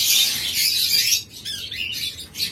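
A pair of master lovebirds chirps in rapid, high, shrill bursts, close by and loud, with short gaps between the squeaky calls and no voices.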